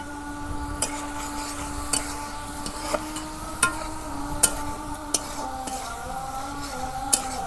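Vegetables fry in a pan in a village kitchen, a steady close sizzle broken by regular scraping and clinking strokes of a stirring utensil against the metal, repeating roughly every second.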